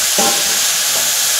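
Chopped tomato and a splash of water going into chicken masala frying in a pan, a loud continuous sizzle and hiss with a couple of brief stirring knocks.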